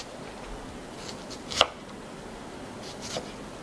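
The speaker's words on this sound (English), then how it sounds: "you're going to take it and slice it long ways" A knife slices lengthwise through an onion, giving one crisp, close cut near the middle and a fainter second cut toward the end, with quiet room tone around them.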